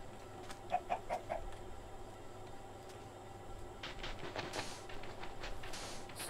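A chicken in the video game Minecraft clucks in a short burst of quick, soft calls near the start, then later faint scattered sounds over a low steady game background.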